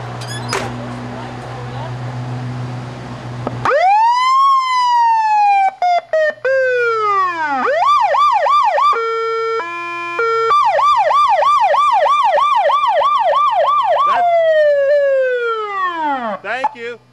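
A restored 1975 Michigan State Police car siren blares up close and loud, cycling through rising-and-falling wails, rapid yelps and a brief steady two-tone section after talk at the start.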